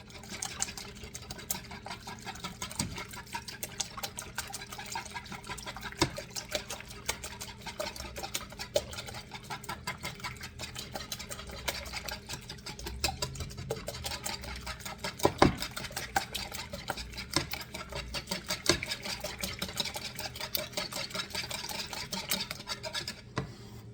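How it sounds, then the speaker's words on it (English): Dry muffin ingredients whisked together in a bowl, a quiet, rapid scratchy ticking of the whisk running continuously for the whole stretch with a couple of louder knocks, no talking. "You have to whisk all this together to make sure that it's mixed in your dry ingredients"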